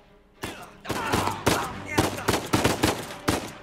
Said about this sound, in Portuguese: Nossa, olha os tiros, é né, passando